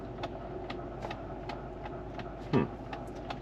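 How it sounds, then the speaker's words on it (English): The climate temperature control in a 2004 Lexus GX470 clicks repeatedly as it is adjusted, a steady series of faint, evenly spaced ticks over a low engine hum inside the cabin. "Get a bunch of clicking because I keep adjusting it."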